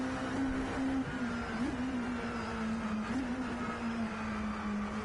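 A steady engine drone from a car in a racing video game, a sustained mid-pitched hum with slight wavering, fairly quiet and unbroken, with no talking.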